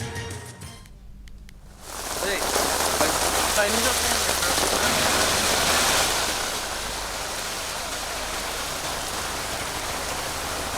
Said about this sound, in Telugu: ఉప్పల్ పరిసర ప్రాంతాల్లో భారీ వర్షం పడుతోంది